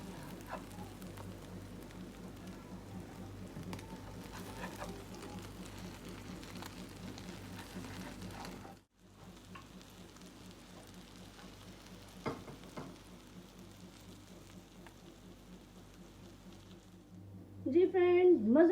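A western-style omelette sizzles steadily in a hot pan as it browns, with a continuous close frying hiss and a brief clatter near the end.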